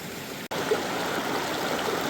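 Water flows slowly and steadily through a gold prospecting sluice in Washington state, a close, constant rushing trickle broken only by a split-second dropout near the start.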